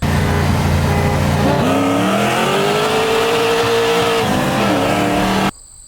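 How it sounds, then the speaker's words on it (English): A BMW E90 M3 races a Tommy Fia LS3-powered Chevrolet Colorado, loud engine roar with rising revs and tire noise that holds steady for over five seconds, then cuts off abruptly. "I have a race with the E90 M3 versus Tommy Fia's LS3 Colorado"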